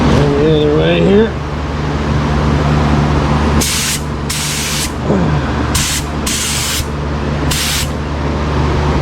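A spray gun applies a second paint coat to a car panel while fixing cracked paint, loud hissing bursts in several separate passes of about a second each, after a brief voice and under a steady background hum.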